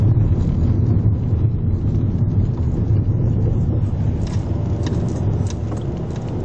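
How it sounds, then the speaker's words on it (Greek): Strong wind at Antirrio, Greece, buffeting the microphone in a steady, dense rumble that lasts the whole time, loud and broadband with faint rattles on top and no talking. "Μας χαλάσει τα μαλλιά ο αέρας"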